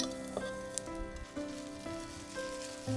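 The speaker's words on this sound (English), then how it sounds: "Fold in half and fry for 2 to 3 minutes on medium heat" An omelet fries in a pan on medium heat, giving a soft, steady sizzle that sits low under a faint tonal hum in the kitchen.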